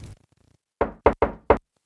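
Four sharp knocks on a wooden door after a faint murmur, the first single and the rest in a quick cluster, close and distinct against silence.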